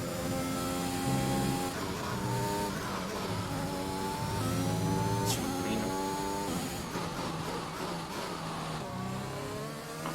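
Racing-game Formula 1 car from F1 2021 at Imola, its engine loud and continuous, rising and falling through gear changes in sweeping harmonic revs across the whole clip, with no talk over it.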